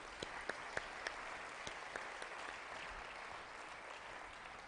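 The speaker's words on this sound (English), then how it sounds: "A round of applause." An audience at a business-of-conservation conference claps steadily in a room, with a few sharp, distinct claps standing out at the start before the applause settles into an even wash.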